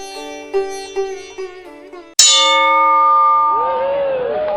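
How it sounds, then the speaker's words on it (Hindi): A boxing round bell is struck once with a sharp, loud metallic clang that follows a few soft plucked musical notes, its bright ringing tone sustaining and slowly fading. "टन से घंटी बजी"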